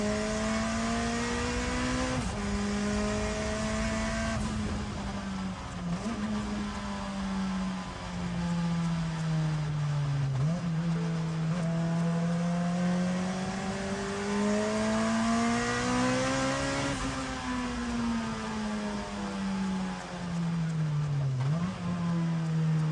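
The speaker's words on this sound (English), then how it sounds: "I was leaning on it harder and longer through each straight, building more and more speed" The Honda-swapped Ferrari's engine pulls hard down a track straight, a loud in-car drone rising steadily in pitch through the gears with short dips at each shift, repeated over a long run of acceleration.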